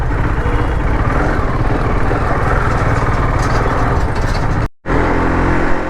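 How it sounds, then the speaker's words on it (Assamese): A new motorcycle's engine drones loudly and steadily while being ridden in Assam. There is a brief dropout near the end, and no talk is heard. "এতিয়া বাইক লৈ ময়ো গৈ থাকিব লাগে আৰু।"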